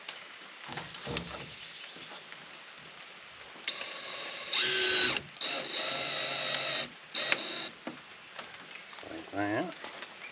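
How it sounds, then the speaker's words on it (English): A power drill whirs in several short bursts, the longest in the middle, with quiet handling noises between them. "grab my drill."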